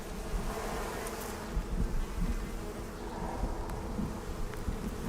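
A swarm of bees buzzes steadily in the survival game Icarus, a dense continuous drone with small swells in loudness, close and unbroken, with no voices.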